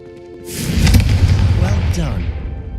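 A Confringo fire spell blasts off in the Room of Requirement in Hogwarts Legacy, a sudden loud boom that swells and rolls on with a crackling fiery tail while voices talk over it.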